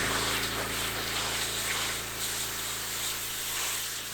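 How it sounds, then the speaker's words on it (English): A steady hiss of water spraying, broad and continuous, fairly loud and close, with no voices. "when you spray it just breaks it down"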